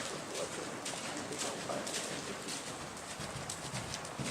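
A horse's hooves clip-clop in a steady rhythm at moderate distance on a farm in Møldrup, Denmark, against a noisy outdoor background.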